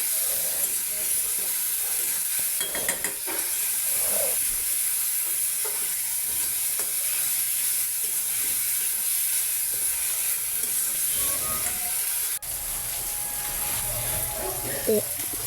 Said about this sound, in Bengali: এক চামচ হলুদ পরিমাণ মতো লবণ এবং আর একটু নাড়াচাড়া করে নিতে হবে